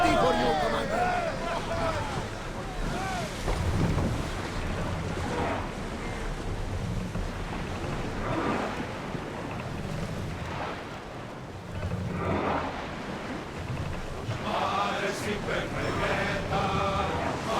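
A sailing ship moves across ocean waves in Assassin's Creed Odyssey, with a steady wash of water and wind-like rushing running the whole way through and voices heard over it.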